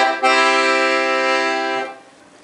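A baby blue Italian-made Noble LM 12 student accordion, 25 keys and 12 bass with LM octave tuning, sounds one sustained reedy chord that holds steady for under two seconds and then cuts off, played alone.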